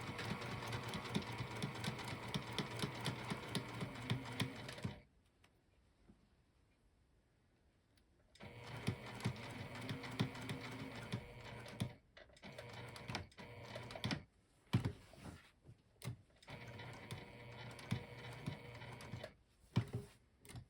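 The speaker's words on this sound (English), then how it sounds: "So just sew right on the drawn line" A sewing machine runs along a drawn line on a sling bag, its needle ticking in rapid steady bursts, stopping for a few seconds of near silence and then restarting in several shorter runs, fairly close.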